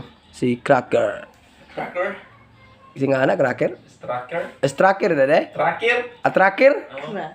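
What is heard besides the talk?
No everyday noises stand out.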